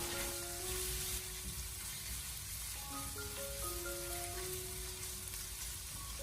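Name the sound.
stir-frying pork belly with ginger, scallion and garlic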